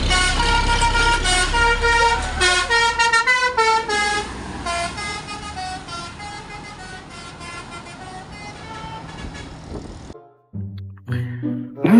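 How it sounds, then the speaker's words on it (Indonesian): Kramat Jati bus passing with a loud, musical multi-tone horn playing a long melodic sequence, then cutting off into near silence before a few short horn bursts return. "kali ini ada bus Kramat Jati teman-teman"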